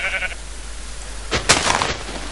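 Sheep bleating in a video game, a few short close bleats in quick succession after a quiet stretch, with no talk over them.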